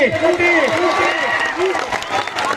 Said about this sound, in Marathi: टाळ्या केल्या त्याच्यासाठी